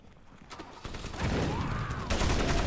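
Rapid machine gun fire in the Crysis video game, building from faint distant rattling into a louder, denser burst of shots over a rumbling background.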